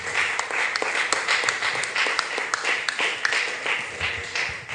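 A church congregation at a Bible study applauds together, a dense and steady clapping with some individual sharper claps standing out, moderately loud throughout.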